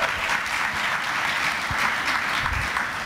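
A church congregation breaks into loud, dense clapping during a Sunday service, a continuous close wash of hands with a few heavier claps, no voices over it.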